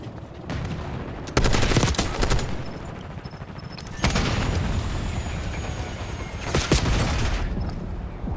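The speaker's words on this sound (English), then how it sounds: "somebody got a damn sentry gun up here" A sentry gun in the Call of Duty video game fires in loud, rapid automatic bursts, with heavy volleys at the start, a long sustained stretch in the middle and another sharp burst near the end over a constant background rumble.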